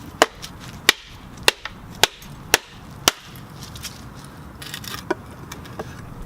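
A prototype NK BRS V2 knife with a flat grind just over 4 1/4 inches is batoned through wood: about six sharp, loud, close chopping strikes in an uneven rhythm, then quieter knocks and rustling.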